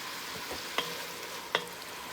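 Gator meat browning in a pot for Louisiana sauce piquant, giving a steady close sizzle with two sharp clinks of stirring about a second apart.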